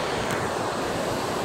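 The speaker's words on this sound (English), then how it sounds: "But we stopped by this waterfall real quick." A waterfall beside the Crow Pass hiking trail near Girdwood, Alaska, roars as a steady, dense wash of rushing water close by, with constant spray and faint wind buffeting, no voices.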